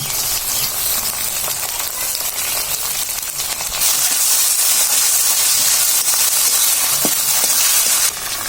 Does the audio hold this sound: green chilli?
yes